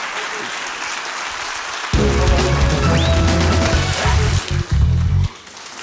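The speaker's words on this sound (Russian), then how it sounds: "Под ваши громкие и бурные аплодисменты" An audience at a stand-up comedy club show applauds as a comedian comes on stage, with loud sustained clapping that starts abruptly after a noisy lead-in and cuts off near the end over music.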